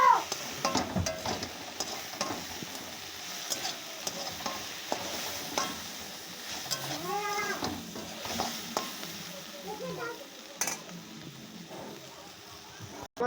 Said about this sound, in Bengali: হলুদটা দেওয়ার পরে এবার নাড়াচাড়া দেবো